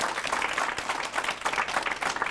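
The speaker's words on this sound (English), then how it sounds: "let's give you a big round of applause." An audience at a Calgary horror convention bursts into a round of applause, dense clapping throughout the short stretch, steady and fairly close.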